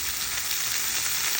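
Cooked shrimp reheating in a pan for ginataang gabi, giving a steady, continuous sizzle close by with a hiss that holds even throughout, no voices over it.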